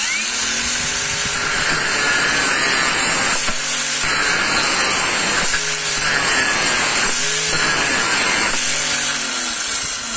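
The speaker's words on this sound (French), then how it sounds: "on coupe le clou" A Parkside PWSAP 20-Li C3 cordless angle grinder cuts through a nail, a loud continuous high whine that dips briefly several times as the disc bites into the metal, with no speech.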